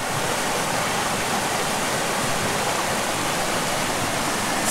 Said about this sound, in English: Got a pretty fun creek crossing here.